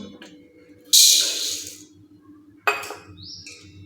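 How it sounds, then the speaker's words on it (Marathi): Dry toor and moong dal poured into a cooking pot, heard as two short, bright rattling bursts of lentils hitting metal with quiet pauses between them. "ह्या दोन्ही डाळी मी एका पातेल्यामध्ये काढून घेत आहे"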